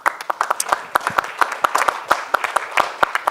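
A smaller film festival audience at Festival Travelling claps to honour two animators from JPL Film, with distinct, close individual hand claps in a brisk, uneven rhythm, fairly loud and free of talk.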